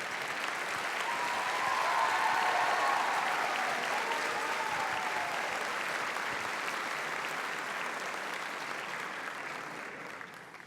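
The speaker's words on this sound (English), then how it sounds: "We can give you another round of applause." Audience at a high school spring chorus concert applauds the composer, a steady, dense wash of clapping that swells early and holds throughout, fading slightly toward the end, with no voices over it.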